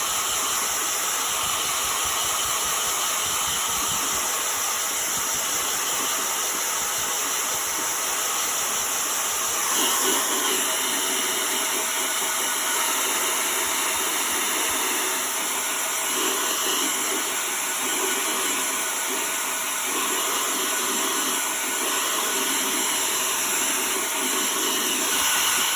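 A heat dryer blows steadily on a freshly applied chalk transfer on a DIY lantern, a continuous loud hissing whoosh that runs unbroken throughout.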